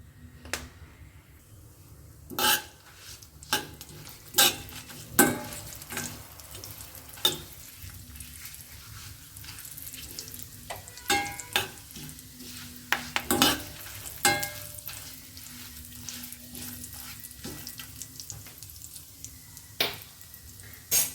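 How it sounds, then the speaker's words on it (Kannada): Oil sizzles steadily in a hot pan with urad dal, a dried red chilli, curry leaves and asafoetida while a spoon stirs and clinks against the metal in irregular taps; there's no talking. "ಒಗ್ಗರಣೆ ಬೇಯ್ತಾ ಇದೆ"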